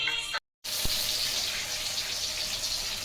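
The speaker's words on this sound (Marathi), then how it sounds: "साहेबांनी मोटर चालू करून मस्तपैकी पाणी मारता येते" Water from a motor pump sprayed outdoors, a steady hissing spray after a brief cut near the start, with a faint click just after it.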